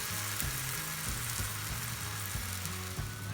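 An American-style pancake topped with pineapple, strawberry, kiwi and blueberry frying in a pan, giving a steady close hiss and sizzle with faint occasional pops and scrapes, no voices.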